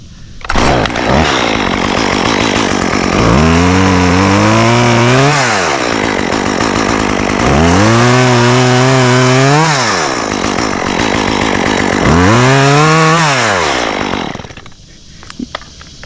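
A chainsaw cuts through the top of a cottonwood tree in a backyard removal, loud and close, with three revving surges and steady idling between them, then cutting out near the end.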